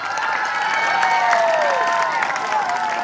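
Audience applause at an Islamic religious talk, a dense, steady wash of clapping mixed with cheering voices, loud and sustained throughout.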